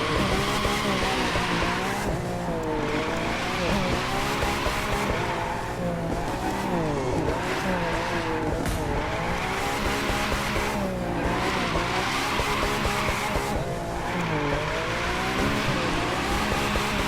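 Car drifting in the racing game The Crew 2, a continuous loud engine roar with rising and falling revs and repeated tire squeals through long slides, with no talking.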